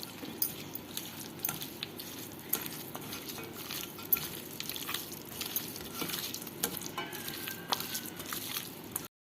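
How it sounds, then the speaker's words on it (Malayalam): Raw chicken pieces being mixed by hand with sunflower oil, salt, curry masala and pepper powder for a chicken roast: a steady wet, squelching churn with scattered light clicks and taps, close and continuous, no talking. "സൺഫ്ലവർ ഓയിൽ കുറച്ചൊഴിച്ചാൽ മതി പാകത്തിന് ഉപ്പും ഇട്ട് നമുക്കൊന്ന് മിക്സ് ചെയ്ത് വയ്ക്കാം"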